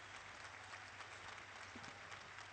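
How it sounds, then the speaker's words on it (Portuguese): Applause from faithful and pilgrims in Saint Peter's Square during a papal general audience, a faint, distant, continuous hiss of clapping from a large open-air crowd. "São as palmas dos fiéis e peregrinos da Praça São E Pedro."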